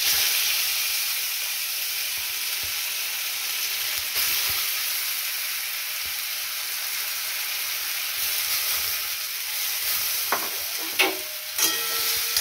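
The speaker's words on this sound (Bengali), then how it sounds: "এটা আমি 2 মিনিট নেড়ে নিই, একটু 2 মিনিট একটু রান্না করে নিই" Grated carrot and potato stir-frying in a pan give off a steady, close sizzle and hiss throughout, with a few scrapes of stirring near the end and no talking.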